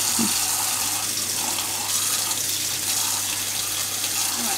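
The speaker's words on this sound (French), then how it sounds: "on met de l'eau chaude" Warm water, about 40 degrees, running steadily into a container, a loud, continuous close rush and splash with no pauses and no talking.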